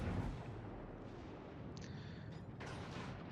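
Naval gunfire in World of Warships, a faint deep boom opening the clip followed by a couple of quieter distant cannon reports over a low rumbling ambience.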